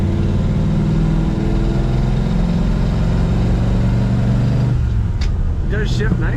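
A 1950 Mercury street rod with a floor-mounted three-speed manual and long-throw shifter runs with a steady, loud low engine drone. The tone drops and shifts near the end as the gear changes, and a voice speaks briefly over it.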